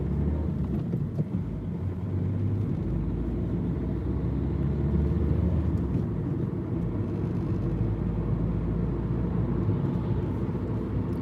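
Car driving along the road, a steady low engine and road rumble heard from inside the vehicle, continuous and even throughout with no talking.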